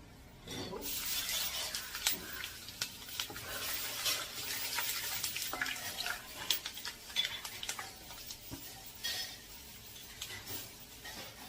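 Fresh ginger, about fifty grams, frying in hot oil in a pan, a soft, steady sizzle with scattered crackles and stirring ticks, fairly quiet and close, with no talking over it.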